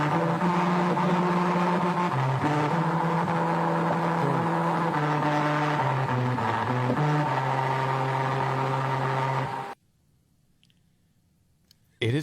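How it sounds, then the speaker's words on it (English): Tires driving over the musical road on Southwest Boulevard Bridge hum a tune as a loud, buzzing drone that steps through several pitches, then cuts off into near silence before a brief sound returns. "here's what it sounds like when you go over the Southwest Boulevard Bridge"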